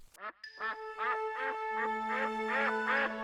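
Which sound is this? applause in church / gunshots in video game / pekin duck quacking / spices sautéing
pekin duck quacking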